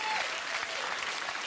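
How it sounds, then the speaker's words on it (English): Studio audience applause on a comedy show, a dense, steady wash of clapping from a large crowd that stays loud and even throughout, with no voices standing out. "you really shouldn't applaud."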